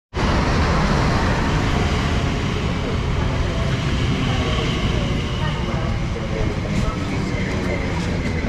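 A Class 345 TfL Rail train pulls into a London station platform, a loud, steady broadband roar of wheels and motors holding throughout, with faint brakes squealing late on.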